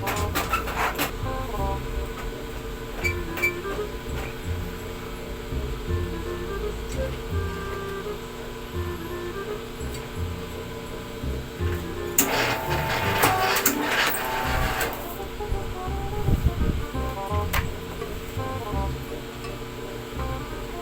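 A bookbinding machine cuts paper, giving a continuous mechanical whirring and clattering hum with a louder burst of rattling and grinding midway through, steady and close throughout.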